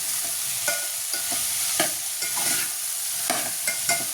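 Dal khichdi ingredients sautéed with salt in a pan: a continuous loud sizzle broken by regular scraping stirs of a spatula, close and uninterrupted by voices.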